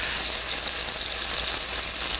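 Anchovies dropped into very hot oil in a pan for anchovy aglio e olio, giving a steady, dense spattering sizzle that runs close and even throughout, with no talking.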